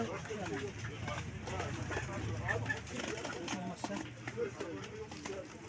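Pigeons and doves coo amid a busy crowd at an outdoor bird market in Nazilli, Turkey, with people chatting throughout and faint footsteps and clatter in the background.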